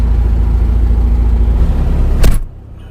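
A Mini Cooper's loud engine rumble runs steadily, then its door shuts with a sharp, solid thud that cuts it off, leaving near quiet.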